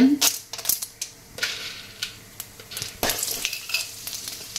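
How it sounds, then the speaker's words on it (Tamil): Mustard seeds and lentils fry in hot oil in a home kitchen, a soft sizzle broken by sharp crackles, pops and scraping stirs that come in irregular bursts. "கடுகு, உளுத்தம்பருப்பு, கடலைப்பருப்பு போட்டாச்சு"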